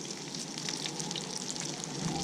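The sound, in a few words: bullhead fish frying in hot grease in cast iron skillet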